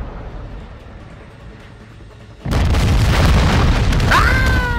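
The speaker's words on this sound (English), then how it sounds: "missiles are coming!" Missile explosions in the video game Call of Duty: Modern Warfare III hit with a sudden loud boom after a quiet stretch, then a sustained roaring blast that carries on with whistling debris tones.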